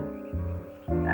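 Frogs croak together in loud, drawn-out tonal calls, the chorus shifting pitch in a few abrupt steps.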